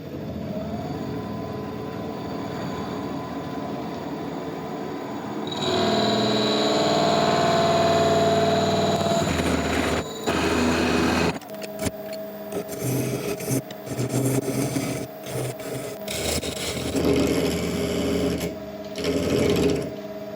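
A Forstner bit cuts a shallow recess into a redwood cone on a woodturning setup, giving a steady buzzing whir that grows louder and rougher midway, then breaks into choppy, stuttering grinding bursts up close, with no voices.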